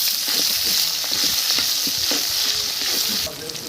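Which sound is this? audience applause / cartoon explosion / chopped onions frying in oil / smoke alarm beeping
chopped onions frying in oil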